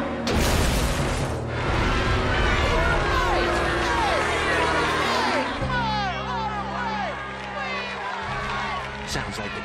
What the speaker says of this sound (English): Sounds like the crowd is growing restless.